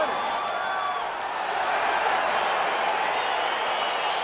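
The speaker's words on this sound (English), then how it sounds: "crowd getting excited as this fight gets underway" Arena crowd noise in EA Sports UFC 4, a steady wash of cheering as a fight gets underway, continuous and fairly soft with no voices standing out.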